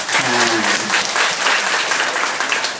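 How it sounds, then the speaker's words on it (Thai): Audience applause at a university club food-giving event welcoming the club president, a loud, dense burst of clapping with a brief voice near the start, continuing steadily for about three seconds. "เราปรบมือต้อนรับท่านหน่อย"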